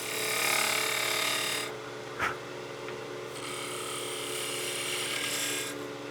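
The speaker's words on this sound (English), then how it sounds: "I'm going to use the tip of the tool to get in there to make this cut" Woodturning tool cutting a Christmas gnome on a lathe, a steady close hum with bright, hissing cutting noise in bursts, pausing midway with a short knock, then resuming.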